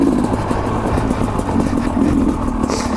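A Sherco 250 SE two-stroke dirt motorcycle engine runs continuously while riding, a steady close mid-pitched drone with clutch pulled in and light clatter, loud throughout without talk.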